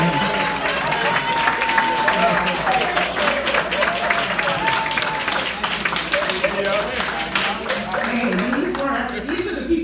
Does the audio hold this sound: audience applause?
yes